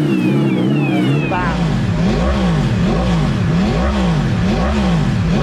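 A racing motorcycle accelerates hard, its loud, close engine climbing in pitch and dropping back through a rapid series of gear shifts.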